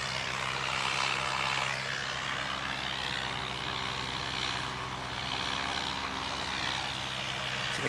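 A Jetstar passenger jet arriving at Christchurch Airport, its broad engine roar steady and fairly distant, holding at an even level throughout with no voices.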